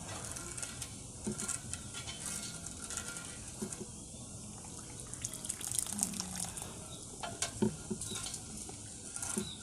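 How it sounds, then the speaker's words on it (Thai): A spoon stirs a butterfly pea flower drink to dissolve the sugar. It makes a soft, steady clinking and swishing of liquid that stays fairly quiet and close, with no voices. "คนให้น้ำตาลละลายก่อน"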